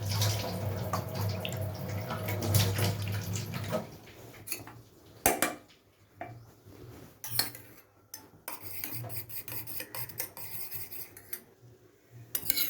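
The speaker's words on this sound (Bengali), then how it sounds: "তিন রকমের সস আমি একসাথে গুলে নিয়েছি।" Three sauces, tomato ketchup among them, are mixed with a little water in a bowl for mushroom chilli, bringing close spoon clinks and scraping against the bowl, with quieter rubbing and tapping in between.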